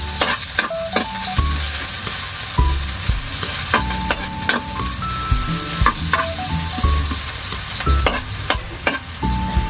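Ginger and chili sautéed in a hot pan, a steady sizzle broken by repeated scraping stirs and clinks of the utensil against the pan, close and fairly loud throughout.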